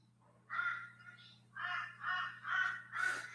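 A crow caws repeatedly, about five harsh, nasal calls in uneven bursts, fairly close and distinct over a low steady hum.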